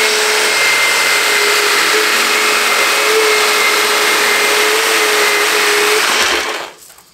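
Power saw running steadily for about six seconds as it cuts along the edge of a wooden template for a DIY bowed guitar, loud and close with a constant whining drone, then cutting off and fading at the end.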